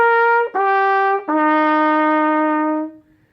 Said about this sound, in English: In order to play notes that are not slurred on the trumpet, I have to tongue every single note.